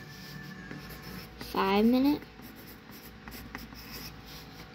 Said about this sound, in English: So I'm gonna write